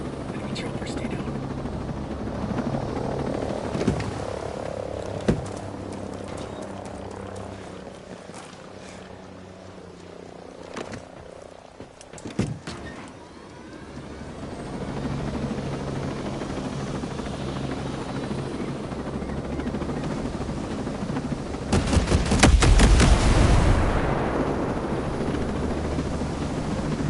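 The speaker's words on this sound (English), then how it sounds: "Enemy chopper, stay down." Enemy helicopter in the video game Ghost Recon Breakpoint, its rotor thrumming steadily throughout and swelling louder near the end, with quiet speech over it.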